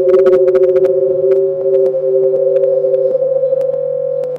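Sine-wave tones standing for a painting's colours: a few steady pure pitches held together and shifting slightly, with light clicking at the start, close and fairly loud.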